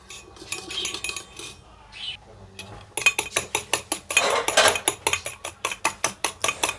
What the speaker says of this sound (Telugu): వీటన్నిటిని స్పూన్తో బాగా బీట్ చేసుకుందామండి